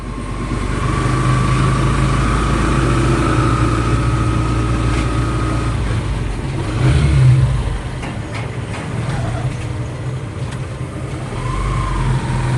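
A motorcycle engine runs loud and close, holding a steady idle drone for several seconds, swelling briefly in the middle as the throttle rises, then settling back to a rough idle with faint ambient clatter around it.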